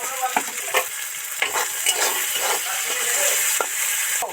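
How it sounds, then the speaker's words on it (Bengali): Salted onions fry in a pan for a vegetarian pumpkin dish, a constant sizzle broken by repeated scraping and stirring strokes of a spoon, close and fairly loud, with no talking. "পেঁয়াজ তো সফট করে ভাজা হয়ে গেছে, বেশি ডিপ ফ্রাই করে ভাজবো না"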